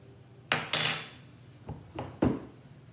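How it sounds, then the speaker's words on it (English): A spoon scoops seeds out of a cut squash in a home kitchen, with several sharp scraping clatters of metal against the hard squash, two close together and then three more spaced out over a quiet background. "Again, scooping the seeds."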